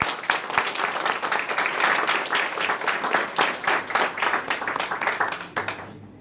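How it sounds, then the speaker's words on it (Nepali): A church congregation at a Nepali-language worship service claps together in a quick, steady rhythm, the loud close clapping running for about six seconds before breaking off abruptly. "ताली बजाऊ।"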